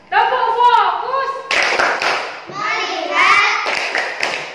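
Children in an Indonesian fourth-grade class perform the 'tepuk fokus' clapping chant, sharp rhythmic claps mixed with loud chanting voices, close by and filling the room.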